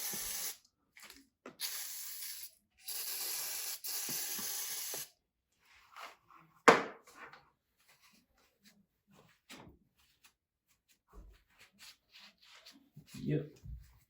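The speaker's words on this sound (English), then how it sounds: "Let's spray some of this." Aerosol can sprayed in several sustained hissing bursts during an oil service on a 700hp supercharged Jaguar XFR, each spray lasting about a second, close by, followed by quieter rustling and handling noises.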